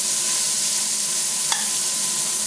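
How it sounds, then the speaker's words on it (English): Peas cooking in a pan over medium heat give a steady, loud, close sizzle that fills the whole stretch, with one brief pop near the middle and no talk. "I'm going to cook the peas until they pop"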